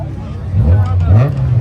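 A Chevrolet Corvette C8 exhaust at a car meet: a loud, close, deep engine note that swells and rises in pitch as it revs, with people's voices mixed in.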